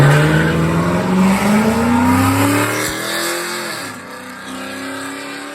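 Chrysler 300C with a 5.7 V8 and light bolt-ons launching on a drag run, loud engine note climbing steadily in pitch through the gears, then easing off and fading as it pulls away.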